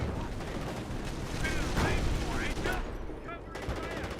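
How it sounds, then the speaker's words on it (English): Calliope rocket barrage in Company of Heroes: a dense run of whooshing launches and overlapping explosions amid battlefield gunfire, loud and busy, with whistling streaks of incoming rockets partway through. "And here comes Calliope Rocket Barrage."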